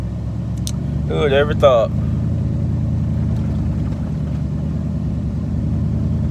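A Nissan Titan truck's engine idles steadily nearby with a low, even rumble. Someone speaks briefly over it near the start.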